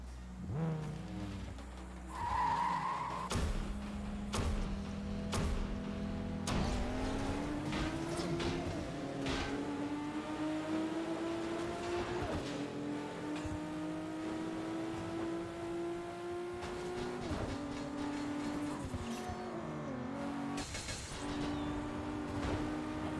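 A white Supra races in an Xbox 360 driving game, its engine revving and climbing steadily through gears, with occasional sharp bursts of tyre noise and background game sound running throughout.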